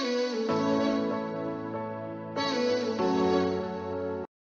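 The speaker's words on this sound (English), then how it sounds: "the vocal chop which runs in the background, I have extracted from the original song" A chopped vocal sample lifted from a song, a sustained harmonic voice-like tone with one abrupt jump about halfway through, played loud and alone before cutting off sharply.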